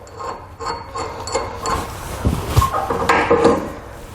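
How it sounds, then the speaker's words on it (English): Someone works a wrench on the castle nut of a B and W Companion fifth wheel hitch fitted to a 2019 GMC Sierra, making scattered close metallic scrapes, knocks and clicks of uneven rhythm. "we need to go ahead and loosen this castle nut here."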